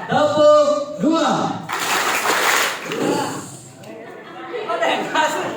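Students at a vocational high school orientation session clap together in a short, patterned burst of about a second, loud and close, set between stretches of a voice and crowd chatter.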